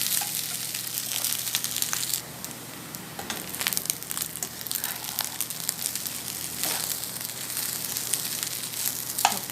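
Leftover rice being fried and stirred in a pan into fried rice, a continuous close sizzle with scraping and crackling stirring strokes throughout.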